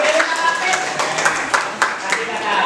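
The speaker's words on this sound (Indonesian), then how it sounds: "tepuk tangan dong." A class of students claps hands during a teacher's performance assessment lesson, with quick irregular claps ringing over overlapping voices and chatter throughout the short burst.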